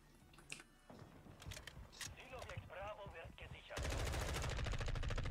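Automatic gunfire from Call of Duty MW2 Beta rattles in rapid bursts, growing dense and loud toward the end, with a player's voice speaking over the shots.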